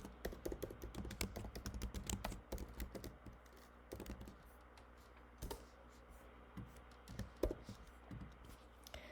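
Steady clicking of computer keyboard keys as someone types data into an Excel spreadsheet, a quick irregular rhythm at close range, busier in the first few seconds and then thinning out to sparse taps, with no talking.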